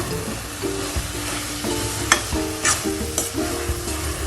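A coconut barfi mixture sizzles in a pan while a spatula stirs and scrapes it, with a few sharper scrapes standing out over a steady frying hiss and a low hum in the background.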